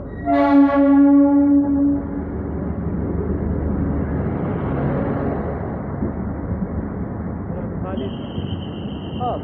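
At Srinagar railway station in Kashmir, a train horn sounds near the start, followed by a steady low rumble of a train rolling along, with a brief high tone near the end.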